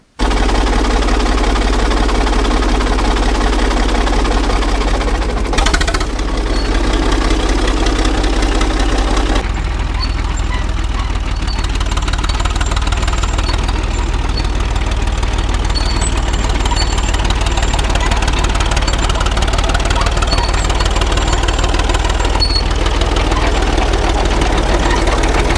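A rebuilt diesel tractor engine runs steadily at close range, a loud, constant low idle with a knocking clatter and a brief change in tone partway through.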